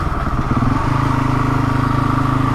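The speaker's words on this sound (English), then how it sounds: "It's nice when the weather's like this and you just fancy getting out on your bike" Motorcycle engine running steadily through the Yorkshire Dales, a loud close continuous drone with a throaty pulsing rhythm and no talk.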